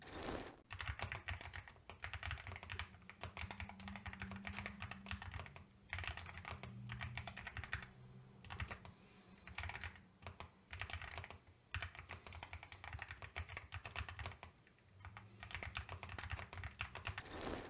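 Steady, rapid typing on a budget mechanical keyboard with a metal case and linear switches, smooth, muted keystrokes, continuous and close, with a few brief pauses.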